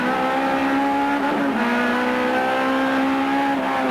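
A Ford Sierra touring car races at the 1988 Bathurst 1000, its loud, steady engine note filling the whole stretch. Midway through, the pitch drops briefly as it changes gear, then carries on under constant roar.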